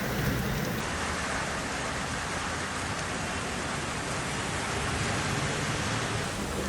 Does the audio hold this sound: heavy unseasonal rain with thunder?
yes